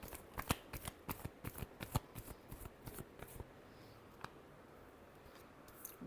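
Tarot cards riffled and shuffled by hand in a rapid series of crisp, close flutters and snaps for about four seconds, then a quiet pause with one more card slap near the end.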